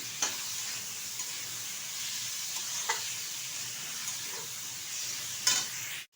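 Vegetables, drumstick stems and potato, are sautéed and stirred on high heat, making a soft, even sizzle with a few faint spatula clicks and one louder scrape near the end, quiet and without speech.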